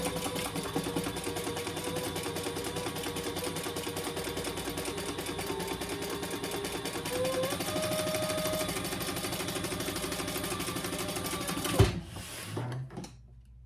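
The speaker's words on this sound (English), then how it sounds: "you're gonna add another row on the bottom of that vinyl piece" A sewing machine stitches a row along a vinyl piece of a travel jewelry case, running with a fast, steady mechanical chatter for about twelve seconds before stopping with a clunk and a few handling knocks.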